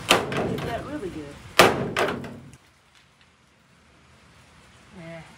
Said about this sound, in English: Let me keep banging around on that for a few minutes.